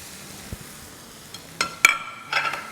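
Potatoes stirred with chilli powder, garam masala, turmeric, dried fenugreek and salt in a pan, a faint background sizzle broken by a few sharp spoon scrapes and clinks against the metal.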